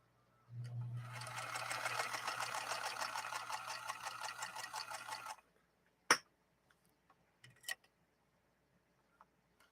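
A rare Singer 222K sewing machine set to a long stitch runs for about five seconds in a steady, rapid mechanical chatter, then stops, followed by a few isolated clicks and taps in quiet.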